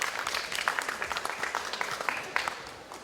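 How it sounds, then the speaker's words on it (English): An audience applauds presenters from Shetland Reel Gin at a cocktail demonstration; a dense patter of clapping hands at moderate distance carries on for the whole stretch, with faint voices mixed in. "Big round of applause, thank you."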